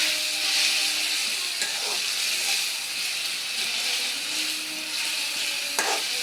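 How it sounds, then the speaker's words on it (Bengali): Taro and fish curry with turmeric and salt sizzles and fries in a pan, a continuous close hiss broken by occasional scrapes and knocks of a spoon as it is stirred. "ভালো করে নাড়াচাড়া করে এটা আমি ভালো করে কষাবো।"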